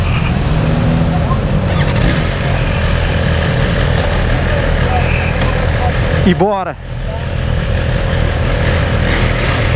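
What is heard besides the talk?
BMW S1000RR 2024 motorcycle engine revving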